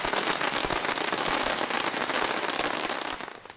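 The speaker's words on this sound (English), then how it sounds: "The sound of firecrackers marked the start of the Year of the Sheep." Strings of firecrackers crackle and pop in dense, rapid bursts for the Lunar New Year celebrations marking the Year of the Sheep, a loud continuous barrage that thins out toward the end.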